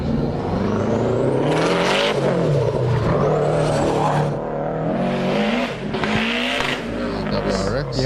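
A Subaru WRX race car at a lakeside hillclimb, its engine revving and roaring continuously with tire noise, loud and sustained, while an announcer talks over a public address system throughout.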